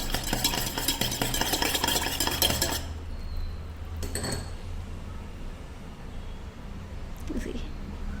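A spoon stirs coffee into a thick eggless whole wheat fudgy brownie mixture in a bowl, giving loud, close, busy scraping for about three seconds before it drops to a quiet background hum.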